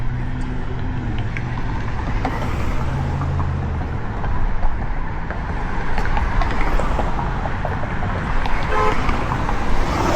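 A car horn toots briefly amid steady road and traffic noise, with engines rumbling throughout.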